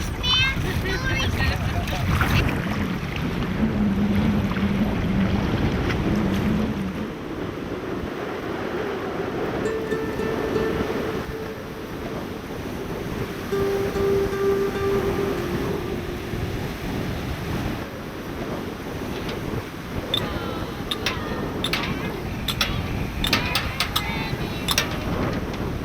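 Relentless wind at Cobourg buffeting the microphone in a continuous rumbling roar, with faint higher tones drifting in and out, steady and loud for the whole stretch.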